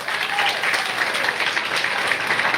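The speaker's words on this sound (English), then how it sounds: "Give them a big round of applause." Applause from a crowd at a Crenshaw/LAX Metro K Line event in Los Angeles, a steady burst of many hands clapping, fairly close and with no one speaking over it.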